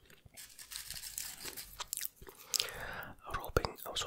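Zesty Cheese Doritos chips crunch close to the mic, in sharp, irregular bites and chewing with a wet mouth texture and soft whispery breaths between the crunches.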